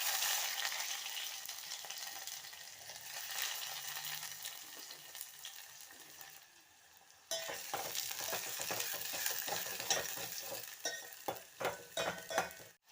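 Onions frying in oil with mustard seeds and cumin make a soft, continuous sizzle. After a brief dip it resumes, joined by stirring scrapes and light utensil clinks near the end.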